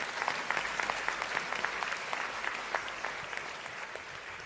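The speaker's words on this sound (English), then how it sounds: "Dr. Sanjeev Dwivedi, please give him a warm American Multi-Ethnic Coalition applause" An audience applauding at an American Multi-Ethnic Coalition award ceremony, a sustained, even patter of many hands clapping, moderately distant, with no speech over it.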